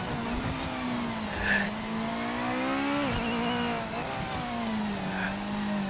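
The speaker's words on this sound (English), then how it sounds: "This actually sounds pretty nice. Kind of sounds like what you would think a high performance 4-cylinder." Japanese GT500 race car in a racing video game, a high-performance four-cylinder engine revving continuously as a strong, buzzing tone that rises and dips through gear changes, loud and alone without speech.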